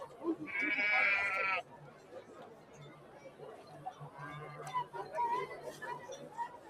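A sheep bleats loudly once inside a sheep pen in a Jesus Christ video game, followed by quieter background chatter and faint ambient sounds.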